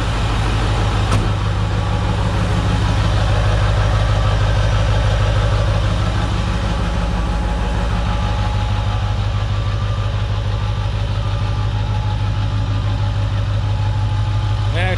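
A truck engine idles steadily and close by, a loud, continuous low rumble that holds an even tone for the whole stretch.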